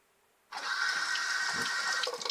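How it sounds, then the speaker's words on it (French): Soapy cleaning equipment is rinsed under a running tap, starting abruptly after a half-second of silence and then flowing as a loud, steady splashing stream of water. "donc là il est bien recouvert de mousse, puis vous allez le rincer."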